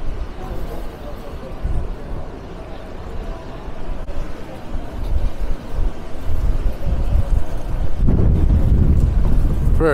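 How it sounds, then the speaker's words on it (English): Wind gusts buffet the microphone on a barricaded Birmingham city street, a steady low rumbling roar that surges louder near the end, with faint traffic beneath. "Very breezy."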